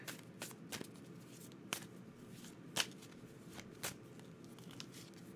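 A deck of oracle cards is shuffled in a quiet room, giving soft brushing riffles with several crisp snaps scattered across a few seconds, faint and close with no talking.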